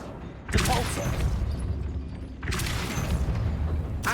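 A Depulso spell cast in Hogwarts Legacy, two forceful whooshing blasts about two seconds apart, each a loud burst that fades into a rumbling tail.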